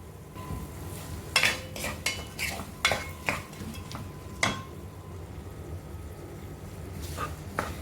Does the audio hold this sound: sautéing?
yes